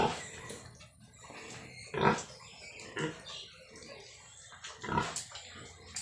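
Mother sows on a pig farm grunt and squeal while being bathed, close and intermittent, with louder bursts between quieter snorts over a wet background.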